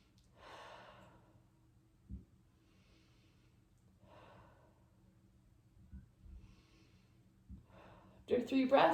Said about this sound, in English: I like to do 3 long, slow breaths same as our diaphragmatic breathing. So in through the nose and out through the mouth.